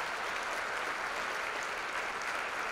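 A lecture audience applauds Arun Gandhi after his speech: a continuous hiss of many hands clapping, faint and distant, with no individual claps standing out.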